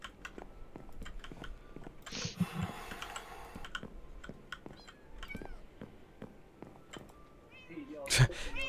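Cats meowing inside the Minecraft video game, a few short meows scattered through the clip with a louder, closer meow near the end, over steady keyboard typing.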